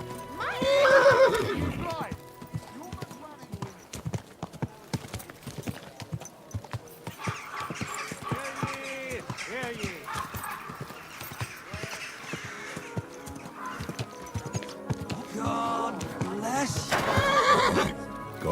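In a medieval open-world video game, a horse whinnies loudly near the start, then its hooves clip-clop in a steady walking rhythm, and it gives another neigh near the end, with someone speaking calmly over it.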